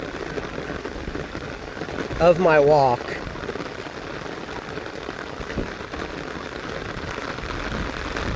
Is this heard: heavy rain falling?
yes